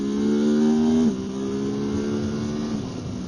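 A 2017 Ducati Supersport S motorcycle engine revs hard under acceleration, a steady loud drone that drops in pitch at a gear change and then climbs again, with no talking.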